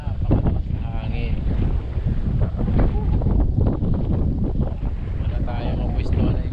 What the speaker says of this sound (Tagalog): Kaya na napakalakas ng hangin.